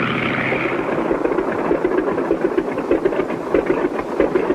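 A cartoon airplane's engine idles after landing on a runway, a steady mid-pitched chugging rumble with a rhythmic knock, alone and moderately close.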